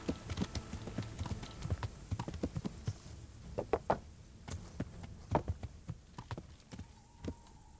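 Horse hooves in Kingdom Come: Deliverance clip-clop in an irregular walking rhythm, faint and close, with a brief low tone near the end.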